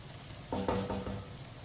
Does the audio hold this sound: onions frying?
yes